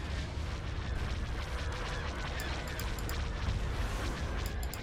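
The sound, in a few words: ship weapons fire in Star Wars: Empire at War video game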